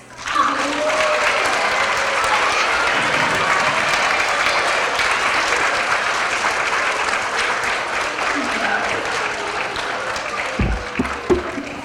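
A large audience of young children and adults claps at a pre-K to third grade character education assembly, loud sustained applause filling the room for many seconds with a few scattered claps standing out as it tapers.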